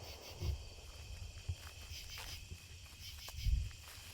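Faint, steady insect chirring hums through a quiet country night, with a few low soft thumps nearby and a distant chorus of frogs.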